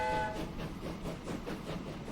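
A train runs along the track in the Transport Fever game, a steady rumbling roll with a brief horn-like tone at the start, moderately quiet and continuous, no talk.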